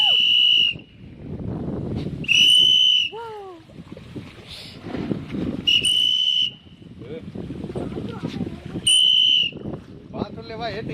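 Outdoors by the water near a small waterfall, a man blows three or four shrill whistles to call fish to feeding. The whistles come between stretches of talk and wind buffeting.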